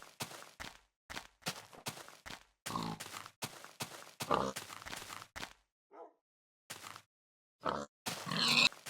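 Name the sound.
pig grunting in a video game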